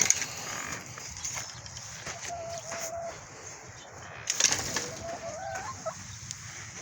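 Chickens cluck softly and intermittently nearby, with a few higher squawks, over a quiet outdoor background.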